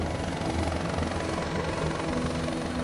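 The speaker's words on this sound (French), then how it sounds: "La marine engage un hélicoptère pour un exercice à taille réelle." A navy helicopter holds a low hover over a winching exercise, its rotor drone loud, steady and continuous, with no other sounds breaking through.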